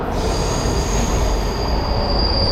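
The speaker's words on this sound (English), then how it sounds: "Here comes the train." A train arrives at a station in Sandy Springs, Georgia, rolling in with a loud, steady rumble and a sustained high metallic squeal of wheels on rails.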